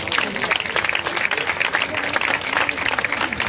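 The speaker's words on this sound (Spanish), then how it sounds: "a quien recibimos con un fuerte aplauso" Audience applause for a performer from Peñamillera at a bagpipe-accompanied folk singing contest: dense, steady clapping from a sizeable crowd filling the whole stretch, loud and close.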